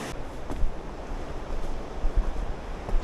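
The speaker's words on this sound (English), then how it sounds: "The river here is Glacier-Fed. The water is perfectly clear." A clear, icy glacier-fed river in Bealey Valley rushes with a steady, broad hiss, while gusts of wind buffet the microphone on a cold trail.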